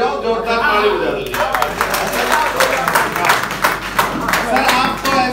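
An audience at a live comedy show bursts into loud clapping, a dense crackling wash of many hands that holds steady for several seconds, with a voice speaking over the start.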